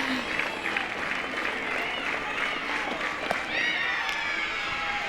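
Crowd at a women's college softball game at Tiger Park, LSU versus Arkansas, clapping and cheering after a strikeout; a steady, moderately loud wash of applause and crowd noise runs throughout.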